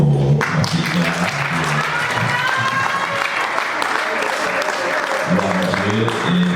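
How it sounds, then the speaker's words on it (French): A church audience applauds and cheers for Clara with dense, steady clapping from a crowd, while a voice speaks over the start and end. "Est-ce qu'on va acclamer encore pour ma petite Clara?"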